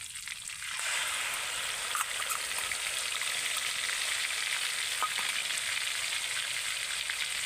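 Ground onion paste dropped into hot oil for a prawn malai curry, a sudden loud sizzle that settles into a steady, even frying hiss with a few faint clicks.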